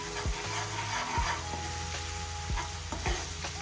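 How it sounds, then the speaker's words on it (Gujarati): Homemade garlic chutney is mixed into hot oil for a drumstick sabji. A dense, close sizzle runs under a few dull knocks of a spoon against the pan. "સારી રીતે તેલમાં ચટણીને મિક્સ કરી લેશું।"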